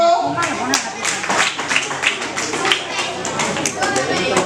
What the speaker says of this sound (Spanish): Siguiente, aplauso.